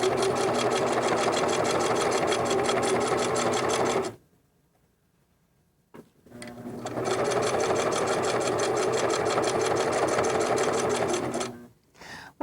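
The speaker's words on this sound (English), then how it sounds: "Continue sewing, being very careful to stitch in the ditch" A sewing machine stitches quilt binding in the ditch: a loud, steady run of rapid stitching, a pause of about two seconds, then a second long run that stops briefly near the end before starting again.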